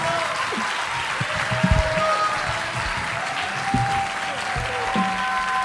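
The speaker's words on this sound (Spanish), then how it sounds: "fuertísimo el aplauso" Audience applause after a concert, a dense, continuous wash of clapping and crowd noise filling a large room, loud and sustained, with a voice speaking over it at times.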